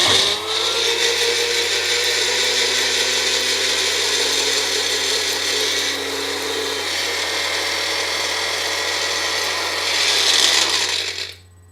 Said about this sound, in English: So we're going to grind this up. It's going to be a bit noisy